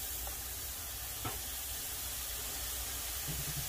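Pound of hamburger meat sizzling steadily in a pan on medium high heat, a continuous close frying hiss with a faint scrape or stir near the middle.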